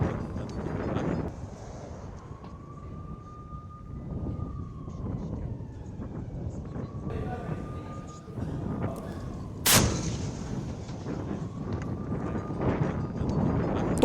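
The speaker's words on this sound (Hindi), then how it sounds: "तोप से लगातार हमले हो रहे हैं" Artillery shelling over Gaza City booms in heavy, rumbling blasts, one sharp loud impact standing out, while a siren wails faintly in the distance amid wind noise.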